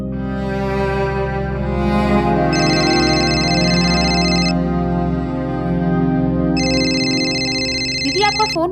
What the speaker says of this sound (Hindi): दीदी आपका फोन बज रहा है।